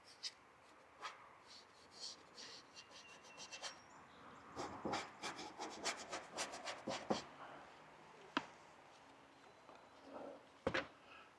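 A paintbrush scrubs paint onto a model barn in quiet, irregular bursts of dry rubbing strokes, close up and faint, with sharper scratches now and then.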